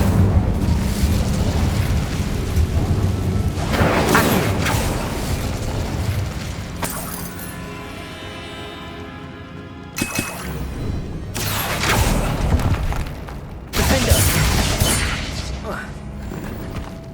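Fire spell blasts in Hogwarts Legacy, a run of loud booming explosions and crackling bursts separated by brief quieter gaps, with game effects ringing between hits.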